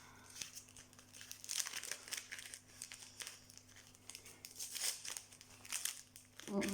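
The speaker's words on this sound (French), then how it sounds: "Donc voici la pochette numéro 2," Paper crinkles and rustles as an Advent calendar pouch is opened, close and steady in waves of crackling, with a low hum underneath and no talking.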